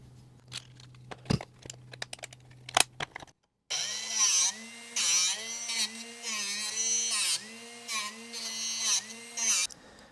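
A Drill Doctor sharpener grinds a carbide drill bit: scattered clicks and taps give way to a steady whirring grind whose whine rises and falls in a regular rhythm, close and fairly loud.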